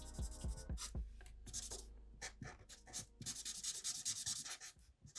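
Pencil shading and filling in a loose, wavy cartoon drawing, making steady scratchy rubbing strokes on paper with a few brief pauses and harder taps, close and fairly quiet, with no talking.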